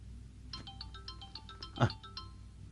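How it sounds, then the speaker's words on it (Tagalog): A telephone ringtone plays an incoming-call melody of repeated bright electronic tones, moderately loud and close, with faint voices and a brief louder knock near the middle. "Sagutin ko na lang ang tawag niya."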